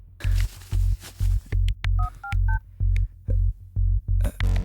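A phone plays low repeating ring-back tones in regular pulses, with a short run of brief dialing beeps in the middle and a few faint clicks, all heard without talk.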